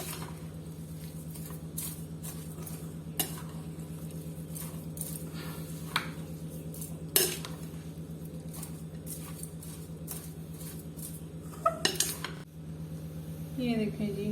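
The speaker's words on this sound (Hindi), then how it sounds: "अब हम इन सब चीज़ों को अच्छी तरह मिक्स कर लेंगे।" Fruit chaat ingredients being stirred together with orange juice in a bowl, giving soft wet squishing and scattered light clinks of a spoon against the dish, quiet and close over a constant low background hum.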